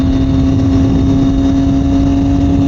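A 2021 Triumph Daytona 765 Moto2 motorcycle is ridden, its engine holding a loud, steady, close drone with constant wind rush and no voices.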